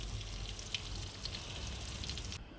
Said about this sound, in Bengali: মাছটা ওই জন্য ভেজে নিলাম